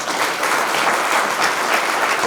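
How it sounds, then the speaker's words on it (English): Audience applause at an MOU signing ceremony between KIPRE and BIOVAX, a dense, even clapping from a full room that holds steady and close for the whole stretch. "We can do a better clap."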